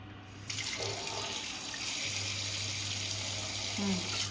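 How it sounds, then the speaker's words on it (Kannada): Tap water running into a vessel while rice is washed, a steady close splashing hiss with a low hum underneath and occasional clinks and shifts of the pot. "ಚೆನ್ನಾಗಿ ಇಸಕ್ಬೇಕು ಅಕ್ಕಿ"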